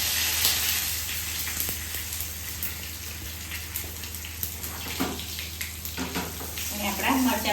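Chilies and sesame seeds fry in hot oil as a tempering for semolina dhokla, producing a steady close sizzle with crackling pops, while a voice talks briefly near the end.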